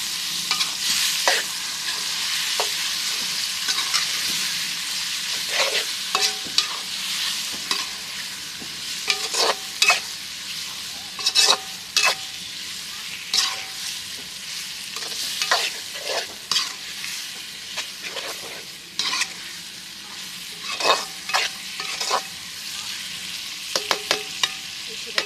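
Chicken frying in a pan with chukkakura greens is stirred repeatedly, with scraping strokes of the spoon in irregular bursts over a soft steady sizzle.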